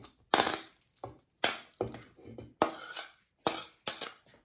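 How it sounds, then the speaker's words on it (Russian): Zucchini is scraped from a frying pan into a pot with a utensil, a series of close, bursty metallic scrapes and clinks separated by short pauses. "И перекладываю все из сковородки в кастрюлю"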